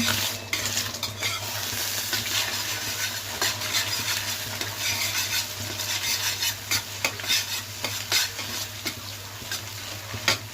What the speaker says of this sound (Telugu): ఒకసారి కలుపుగా